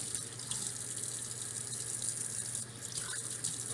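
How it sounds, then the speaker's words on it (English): Tap water runs steadily into a sink while a vegetable is rinsed, a continuous bright splashing stream with no voices. "Give it a rinse up."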